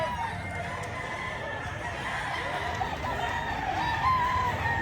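Chickens at a Filipino fowl seller's, with a rooster crowing and hens clucking over a steady background din, while people talk nearby.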